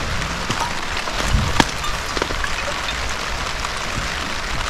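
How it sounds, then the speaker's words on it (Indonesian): Heavy rain drums steadily on a hexagonal Kilimanjaro tent flysheet, a dense, even hiss of drops close overhead with a few louder taps and no talk. "Ini hujan deras bukan lagi gerimis."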